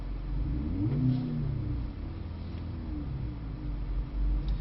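A Mercedes-AMG C63 S on a track, its engine held at a steady, muffled drone as throttle keeps the rear wheels spinning through a slide, no voices over it.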